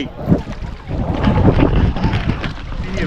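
On a round coracle riding the river at Hogenakkal, wind buffets the microphone over sloshing water and low rumble, with some muffled talk in the background.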